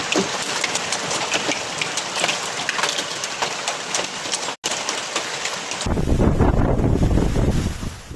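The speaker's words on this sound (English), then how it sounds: "Residents captured dramatic scenes of dark skies, torrential rain, strong winds, and hail hitting communities." Torrential rain and strong wind during a thunderstorm in Piedmont, Italy, a loud constant roar of downpour and gusting buffeting the microphone, swelling into heavier low rumbling wind noise toward the end.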